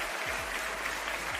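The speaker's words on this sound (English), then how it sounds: "You get the full applause." Steady applause from a studio group during a wrestling podcast, a dense continuous patter of clapping with no pauses.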